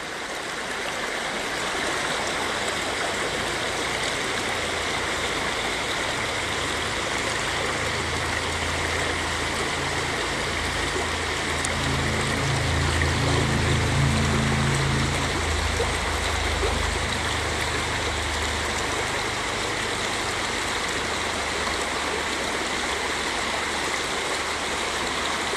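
Water flows steadily in Morgan Brook, a continuous broadband rush and babble that stays close and even, with a slightly heavier churning swell near the middle and no voices.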